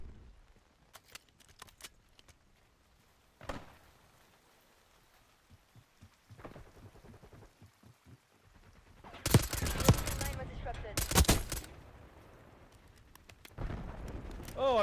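Gunfire in the shooter video game Black Ops 6: scattered single shots and short bursts early on, then a loud sustained volley of automatic fire near the middle, with quieter spells between.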